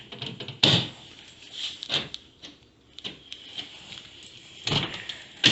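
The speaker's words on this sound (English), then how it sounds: "door lock." Car door locks actuate through an aftermarket keyless entry system, a series of sharp mechanical clunks and clicks spaced irregularly, close and fairly loud in a quiet space.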